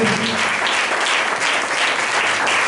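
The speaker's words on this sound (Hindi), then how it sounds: "कोटवार साहब के लिए जोरदार ताली बजाएंगे" A church congregation claps vigorously in welcome, a thick, continuous round of applause that stays loud and even throughout.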